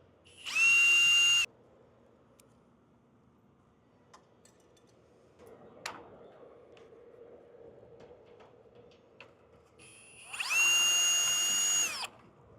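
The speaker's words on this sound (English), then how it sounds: "we're using self-tapping metal screws and just going right into the building" A power drill drives self-tapping screws into a metal garage wall: two short, loud high whines at the start and end, separated by quiet handling clicks and faint knocks.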